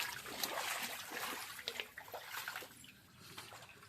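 Floodwater from heavy rain flowing inside a flooded house, a steady broadband rush and trickle of water with occasional splashes, fairly loud and close throughout.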